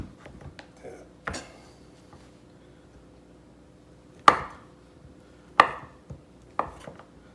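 A knife chopping food into neat cubes on a cutting board while making biscuits, a handful of sharp, close, separate knocks spaced a second or more apart over quiet room tone.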